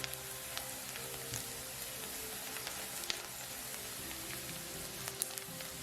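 Paprika and black pepper sautéing in a pan for garlic shrimp, a steady soft sizzle and crackle with occasional small pops, faint and continuous without voices.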